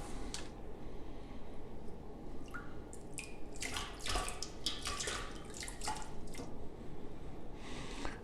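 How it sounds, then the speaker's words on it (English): Hot water poured over birch bark being readied for bending into a winnowing tray, heard as faint scattered drips and trickles against a low steady background, with no talking. "I gotta pour hot water on it"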